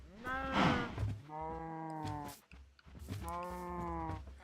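Cows in the Minecraft video game lowing in two drawn-out, harmonic moos close by, separated by a short pause, with no talking over them.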